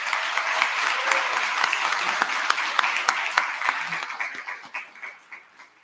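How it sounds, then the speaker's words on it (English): Audience applause for student honorees at a college honors convocation, a full, sustained round of clapping in a hall that gradually thins into fewer, distinct individual claps as it winds down. "Let us give all honorees another round of applause."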